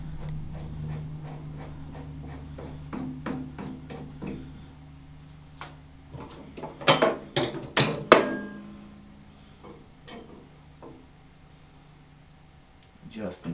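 Cross slide screw spun by hand into a South Bend 10L lathe with taper attachment, giving a run of light metallic ticks and clicks that cluster into sharper taps midway, close and fairly quiet with faint background hum.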